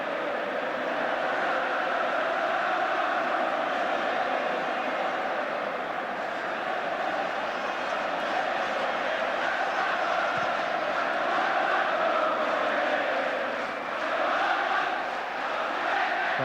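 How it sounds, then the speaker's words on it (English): Thousands of fans at a 1980 England v Argentina football friendly sing together in a continuous massed chorus, a broad, sustained wall of voices swelling slightly in places, heard from a distance without any clear talking on top. "And the crowd bursting into full chorus."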